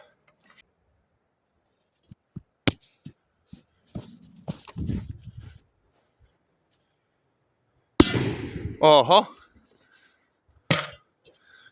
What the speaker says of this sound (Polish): teraz taka mała petarda